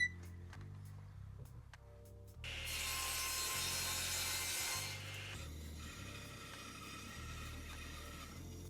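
A table saw cuts a plain rectangular wood block at a 15-degree angle, a loud sustained broadband whine rising sharply for about two seconds mid-clip, preceded and followed by quieter workshop handling clicks and scrapes.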